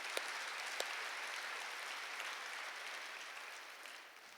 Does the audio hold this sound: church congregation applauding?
yes